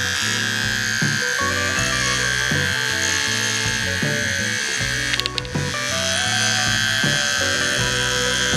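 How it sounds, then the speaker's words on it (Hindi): A small Mi electric hair trimmer buzzes steadily up close, a continuous motorized hum with no talking. "तो चलिए हम अपना ट्रिमर ऑन करते हैं।"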